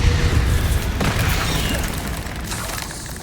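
A Bombarda spell explosion in Hogwarts Legacy, a heavy low boom with debris crackle that rumbles and slowly decays over a few seconds, loud and close.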